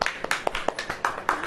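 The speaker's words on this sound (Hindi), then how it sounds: "ताली बजा" An audience claps at a prayer gathering, a short spell of brisk, fairly close hand claps in an uneven rhythm, with no talk over them.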